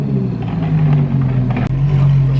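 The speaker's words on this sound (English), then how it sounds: "He's gonna park the Gallardo." A Lamborghini Gallardo's engine idles and burbles close by while being parked, a steady low rumble with a slight rise in revs and a brief dip midway.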